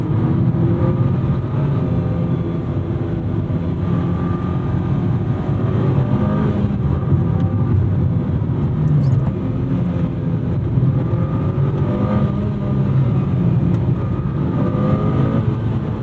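An all-wheel-drive rally car, a Lancer Evolution IX GSR or GR Corolla Core, pulls hard in a continuous loud engine drone heard from inside, steady throughout with no speech over it.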